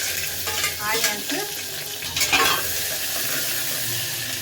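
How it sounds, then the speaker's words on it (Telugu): Onions frying in oil with mustard seeds and cumin, a loud close sizzle with crackling pops and a few stirring scrapes and clinks against the pan. "ఇప్పుడైతే ఆయిల్ వేసి ఆవాలు జీలకర్ర వేసేసిన ఆనియన్స్"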